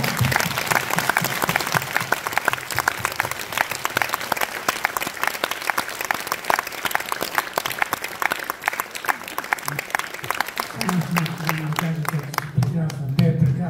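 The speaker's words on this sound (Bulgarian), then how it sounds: "Аплодисменти за нашите български прекрасни деца!" A concert hall audience in Stara Zagora claps for a children's singing group at a festival anniversary show, producing sustained, dense, close applause; a voice speaks over it near the end.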